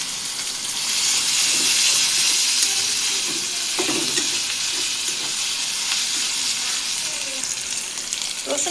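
Chicken pieces fry in a pan as ginger paste goes in, a continuous steamy sizzle with a few soft stirring knocks and scrapes near the middle and end.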